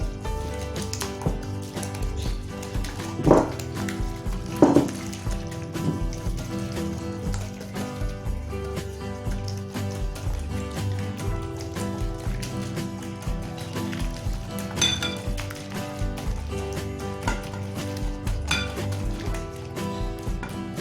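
Batter for a banana, corn, chocolate and cheese martabak being stirred with vanilla and salt, a steady scraping swish in a bowl with occasional clinks of the utensil against the side.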